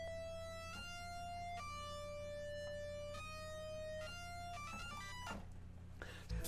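Detuned unison synth lead with added distortion plays a short stepwise melody of sustained notes over a low steady hum, fairly quiet, ending with a few short bursts.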